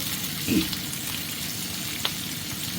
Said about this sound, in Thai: เอาสามชั้นมารวนก่อนให้น้ำมันมันออกเนาะ